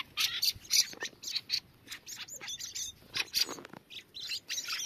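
Young thrushes chirping up close, a busy run of bright, sharp tweets and squawky calls overlapping in quick, irregular bursts.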